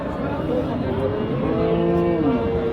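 Cattle, including crossbred cows, at the Satmile cattle market in Jessore, with one long, close, loud moo rising over the background crowd noise.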